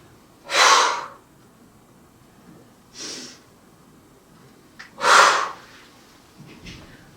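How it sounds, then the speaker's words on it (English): Deep, forceful breaths during a gentle workout, with three loud, close exhalations spaced a few seconds apart and a softer breath near the end, no talking. "Here we go, big deep breaths."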